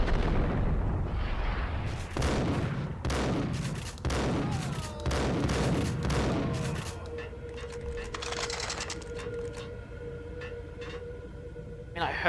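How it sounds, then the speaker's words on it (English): A grenade explosion amid gunfire in the Max Payne shooter game: a string of loud broadband blasts and shots in quick succession, then a ringing, tonal aftermath with faint crackling. "I heard the grenade"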